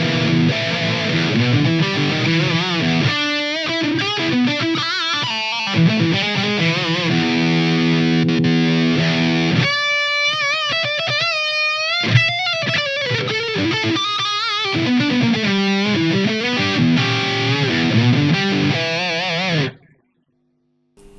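Electric guitar runs through a Digitech GFX1 multi-effects preset with its compressor switched off, giving a thick distorted, chorus-tinged tone. Chords and single-note lines play continuously for about twenty seconds before stopping abruptly.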